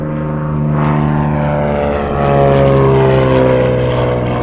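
A propeller airplane taxis on the ground at an air show, its engine humming loud and close with a steady, droning tone that swells slightly partway through.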